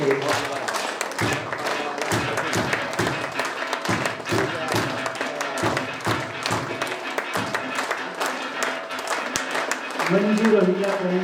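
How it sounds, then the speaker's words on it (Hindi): Applause from an audience at an award ceremony in Bahadurgarh honouring successful UPSC candidates, with claps and thumping taps in uneven bursts while a speaker talks over them. "तालियां नहीं रुकनी चाहिए।"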